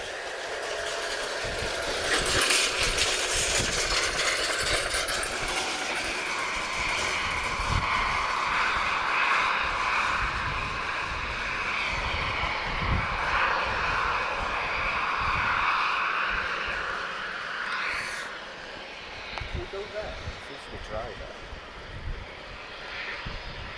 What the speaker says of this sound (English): So I'm just keeping all the equipment covered so we can get this A330-200 departure